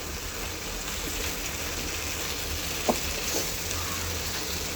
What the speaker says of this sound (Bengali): এবার আমি সেই ধুন্দুলগুলো দিয়ে দিচ্ছি এই মশলার মধ্যে, দিয়ে এবার আমি নেড়ে চেড়ে নিচ্ছি।